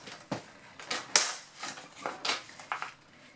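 Paper strips are cut for an autumn album booklet, giving a series of crisp snips and small clicks spaced unevenly over a few seconds, close and quiet.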